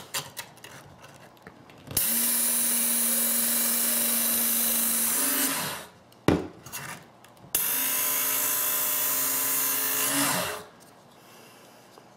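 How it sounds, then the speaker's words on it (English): A Work Sharp powered sharpener with a medium grit belt grinds steadily against a saw blade in two long passes of several seconds each, loud and close, with a whining motor tone and a short pause between the sweeps. "let's go ahead and sharpen this. This is the Work Sharp"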